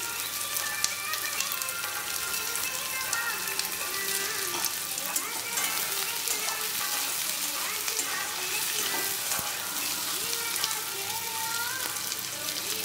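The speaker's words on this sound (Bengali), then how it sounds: "পেঁয়াজের সঙ্গে আলুটাকে আমি ভালো করে একবার ভেজে নেব" Sliced onion and potato fry together in a pan for a chole dish, a steady dense sizzle with crackling and occasional stirring that runs close and unbroken throughout.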